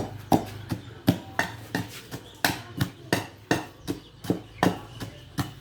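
Steady rhythmic pounding of a spice paste with galangal and garlic in a mortar, roughly two thumps per second, close and sharp, each strike with a short hollow ring.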